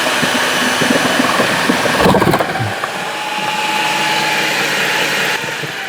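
An all-in-one electric chopper blender whirs steadily as it cuts thick potatoes into french fries, a loud, close motor whine with a brief rougher burst partway through as the blades work the potato.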